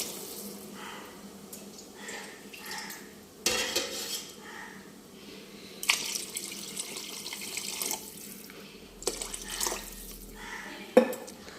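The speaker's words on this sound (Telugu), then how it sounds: "అలా 4 గ్లాసులు వాటర్ వేసుకుందాం." Water pours from a glass into a pot of rice being cooked, four glassfuls at a time, with a hollow splashing stream and clinks of pot and utensils in a home kitchen.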